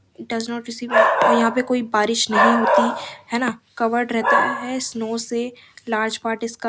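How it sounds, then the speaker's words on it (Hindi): Dogs barking in a snowy mountain area in the east of Jammu and Kashmir, repeated barks and yips mixed under a teacher's continuous close-up Hindi-English lecture. "ये कुत्ते भौंक रहे हैं"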